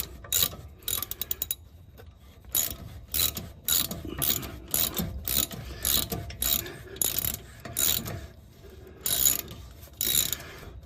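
Ratchet turning the brake caliper bolts on a vehicle: quick, close clicking pawl bursts in a rapid run, then repeated short ratcheting strokes with brief pauses between them.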